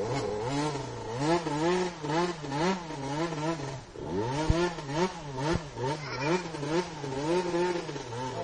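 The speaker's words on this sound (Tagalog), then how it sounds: "Jay, baba mo na yung motor mo" A motorcycle engine revs while climbing a steep uphill road, loud and close, with repeated rising and falling surges of throttle and a couple of sharp clacks partway through, with no talking.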